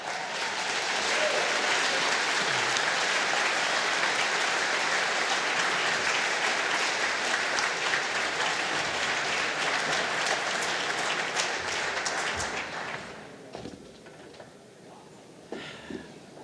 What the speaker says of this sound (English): she deserves another applause